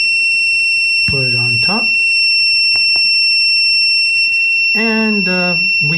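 Mazur PRM 9000 radiation detector alarming next to a 10 microcurie cesium-137 source, a loud piercing continuous high-pitched tone that runs throughout, with someone speaking briefly over it twice.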